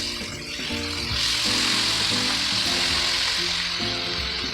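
Breaded swai fish fillets sizzle steadily in a frying pan, a bright continuous hiss that swells after the first second and holds, close up, with background music playing underneath and no voices.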